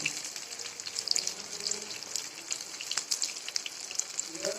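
Sabudana vada deep-fry in a pan of oil, a dense continuous bubbling sizzle with fine crackles, close and fairly quiet, with no one speaking.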